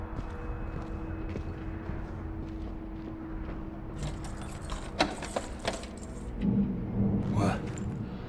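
Keys jangle with a brief metallic rattle as they are picked up in Dishonored 2, clinking over a low ambient rumble, with a few sharper clicks and a short burst of jingling near the end.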